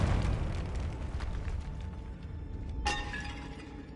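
A Confringo fire spell goes off in the Hogwarts video game: a sharp, bright shattering blast near the three-second mark over a dense, rumbling game soundscape, with no speech.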